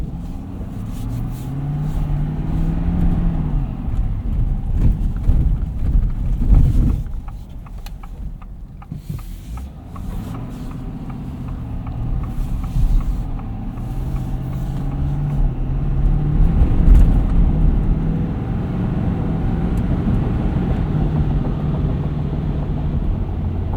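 A 2023 Ford F-250 Super Duty King Ranch crew cab with a 6.7L V8 diesel, heard from inside while driving: a steady low engine drone with road and wind noise, rising and easing as it accelerates.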